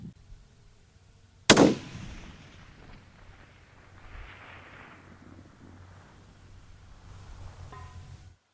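A single sharp, loud Savage rifle shot cracks close by at a 1,000-yard range, followed by a long rolling echo that fades over several seconds.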